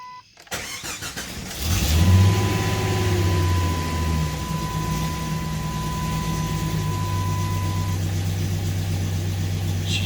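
A 1997 Jeep Grand Cherokee with the 4.0 six-cylinder engine cranks and fires up after a coolant temperature sensor replacement, then settles into a steady, close idle with no talking.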